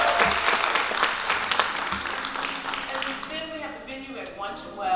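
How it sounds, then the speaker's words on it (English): Applause breaks out at a community event in honour of the Elegant Touch Ballroom, a dense patter of clapping with talk over it, fading as the crowd settles. "Please give a clap to Elegant Touch Ballroom."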